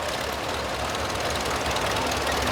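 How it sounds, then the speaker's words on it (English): A Caterpillar Model 20 gas tractor with original patina runs steadily at a parade, its engine giving a continuous rough knocking chug close by with no talk over it. "This is a Model 20 gas tractor Caterpillar"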